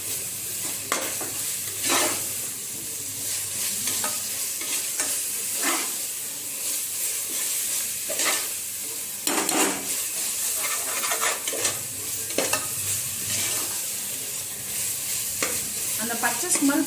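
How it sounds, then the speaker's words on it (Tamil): Chicken biryani masala is stirred in a sizzling pan, a close, steady frying hiss broken by repeated scraping strokes and scuffs of the spoon against the metal, with no talking. "அந்த பச்சை ஸ்மெல் போற வரைக்கும் கலரணும்."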